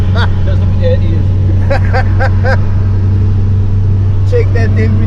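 Turbocharged and supercharged Mk2 Golf engine running loud and steady with a low droning hum throughout, while a voice speaks over it in short bursts.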